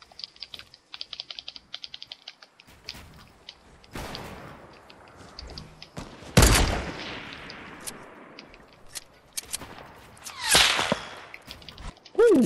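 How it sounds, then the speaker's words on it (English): Sharp, loud gunshots in a video-game firefight across mountain rooftops, with one strong crack near the middle and another burst later, set against lighter clicks and rustling. "Ooh, they're shooting at us."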